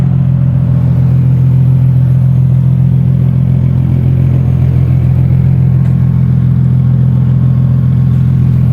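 A Nissan 350Z fitted with a custom single exit exhaust gives off a loud, close, steady deep rumble with no clear rise or fall throughout and no talk.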